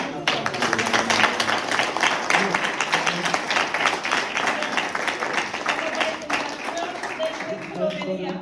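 An audience applauds at a short-story prize award ceremony, a sustained, dense patter of clapping hands lasting several seconds, with voices mixed in.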